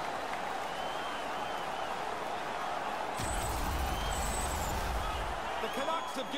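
The crowd in a hockey arena watching the Vancouver Canucks swells into loud, sustained cheering and applause halfway through, over a constant roar of the hall, with a commentator speaking throughout.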